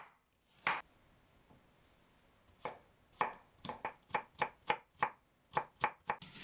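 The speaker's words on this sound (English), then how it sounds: "One carrot in julienne." A knife chopping a carrot into julienne strips on a cutting board: a single cut, a pause, then a quick run of about a dozen crisp, evenly spaced knocks, close and clear with no talking.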